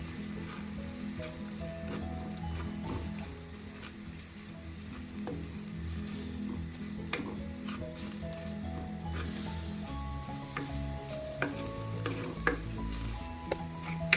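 Masala powder frying in oil for a Kerala-style Chempalli (big eye snapper) fish curry, with a steady close sizzle and occasional clicks and scrapes of a stirring spoon against the pan.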